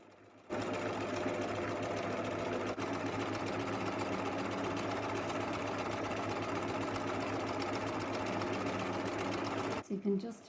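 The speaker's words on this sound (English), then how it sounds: "you can also stitch those squiggly lines outside of the applique pieces" Sewing machine stitching machine appliqué, a fast, steady mechanical whirr with a rapid needle chatter running continuously for several seconds before stopping abruptly, close and even.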